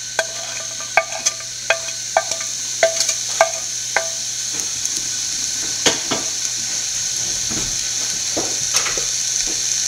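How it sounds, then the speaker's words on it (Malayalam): Onion and green chilli hit hot oil in a pan for bitter gourd stir-fry, giving a steady close sizzle with repeated small clicks and taps of stirring, and no talking. "നമ്മൾ എണ്ണ ചൂടായിട്ടുണ്ട്, അതിലോട്ട് സവോള പച്ചമുളകും കൂടെ ഇട്ട് കൊടുക്കാം."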